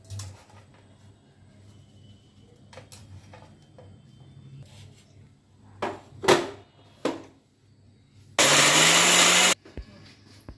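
After quiet clattering, a mixer grinder whirs into a loud roar for about a second, grinding torn roti pieces into powder, then cuts off abruptly.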